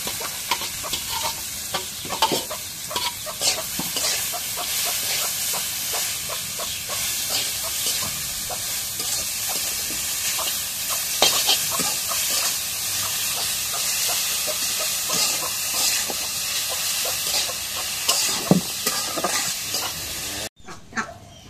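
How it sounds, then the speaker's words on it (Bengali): Leafy greens hit a pan of fried garlic and dried chili, giving a loud, steady sizzle with frequent stirring scrapes and clicks throughout, ending abruptly. "এখন রসুন মরিচ ভাজা হয়ে গেছে, শাকগুলো দিয়ে দিই।"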